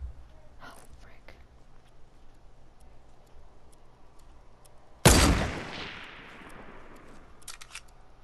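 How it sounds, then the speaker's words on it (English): A sharp, loud blast of gunfire in the video game Fortnite bursts out midway and decays into a lingering roar. Faint ticking shots are scattered before it, and a voice talks over the game. "He knows I'm shooting at him, you guys."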